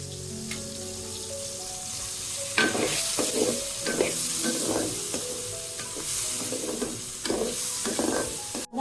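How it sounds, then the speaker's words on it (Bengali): Soybean chunks frying in a pan with a little salt and turmeric, a steady crackling sizzle with repeated scraping and stirring strokes from about the middle onward, close and moderately loud. "সয়াবিন গুলো ভেজে নিচ্ছি।"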